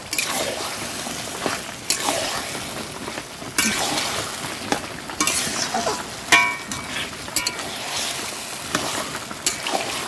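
Meat frying in oil in a home kitchen: a steady close sizzle with repeated bursts of crackle and stirring scrapes, loud and continuous with no voices.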